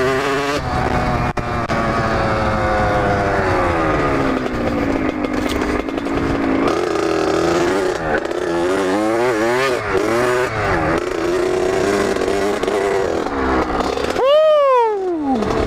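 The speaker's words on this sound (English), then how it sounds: "Third gear trying to do a little wheelie over that" A motorcycle engine in third gear lifts into a small wheelie outdoors, loud and close, its pitch climbing and falling through repeated throttle swells, ending with a sharp rising and falling rev.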